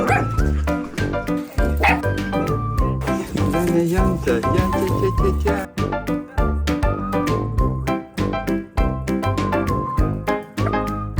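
A puppy barks and yips repeatedly in quick, uneven bursts. The barking is close and fairly loud, with a dense mix of other sound running under it.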